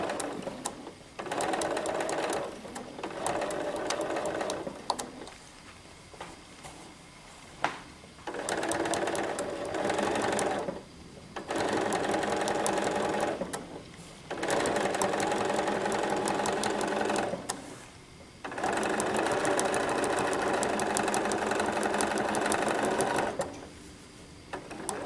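A sewing machine stitches quilt binding in several long, steady runs of loud mechanical whirring, each burst lasting a few seconds and separated by short pauses, with no talking.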